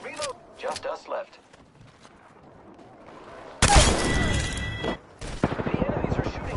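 Rapid bursts of gunfire from the battle-royale shooter Apex Legends, a loud fusillade of automatic shots that erupts after brief in-game voice lines and continues with sharp repeated cracks.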